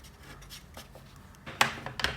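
A Touch 5 marker colouring a drawing in vanilla shade, quiet soft strokes and rubs on paper, with a few louder, sharper scratchy swipes near the end, no talking.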